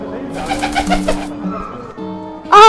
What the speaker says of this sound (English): a pigeon flew in and perched atop a branch near him